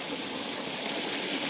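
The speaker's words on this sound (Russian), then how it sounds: "Небольшой водопадик." Steady rushing water, a small stream spilling over a small waterfall where it flows into the Nara River, a continuous broadband wash with no pauses or voices.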